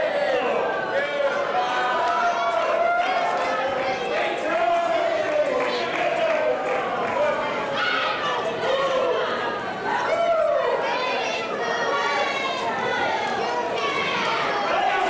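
A crowd at a wrestling event keeps up a loud, constant babble of excited voices, with shouts, yells and bits of laughter rising and falling.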